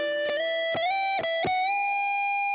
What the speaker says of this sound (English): Then rip through an arpeggio.